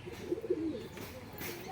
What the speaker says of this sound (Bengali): চেন্নাই ব্রিডের ম্যাড্রাস পায়রা, ডিম বাচ্চা ফুল ওকে